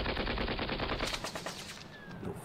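Units firing guns in the wargame Panzer Battles North Africa 1941, a loud, dense burst of rapid machine-gun fire that rattles continuously and fades slightly toward the end.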